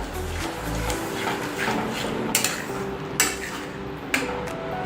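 A spoon clinks and scrapes against a kadai while paneer and capsicum are stirred into gravy, giving steady scraping with a few sharp metallic knocks.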